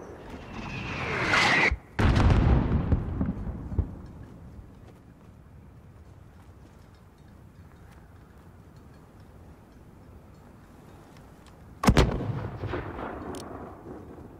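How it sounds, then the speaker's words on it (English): Mortar artillery fire in the Modern Warfare video game: a heavy booming shot with a rumbling tail, a quieter stretch of distant battlefield ambience, then another sharp blast near the end. "There's still a mortar out there."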